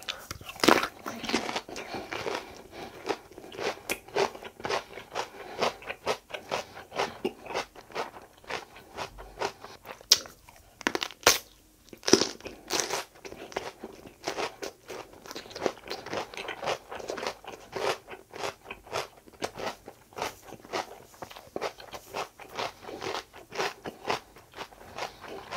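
Raw cucumber is bitten and chewed close to the microphone, giving a long, steady run of crisp crunches and wet chewing.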